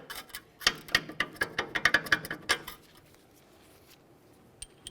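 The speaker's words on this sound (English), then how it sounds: "We'll wiggle this around so we can get the bolt out of there." A bolt is worked loose from the rear knuckle of a 2002–2005 Ford Explorer with a quick run of about a dozen close metallic clinks and rattles, then near quiet.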